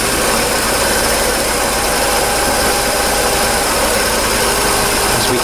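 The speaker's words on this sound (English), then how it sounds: "As I run the engine" A Mercedes CLK engine idles close by, with a loud, steady, even drone and a dense mechanical whirr that holds without change throughout.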